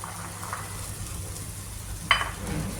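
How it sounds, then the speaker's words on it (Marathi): Green pea gravy sautéing in oil in a pan gives a steady, fairly soft sizzle, with one brief scrape of a spoon or stirring clatter near the end. "या गिरवीला आपण थोडंसं साईडनं तेल सुटेपर्यंत परतायचं."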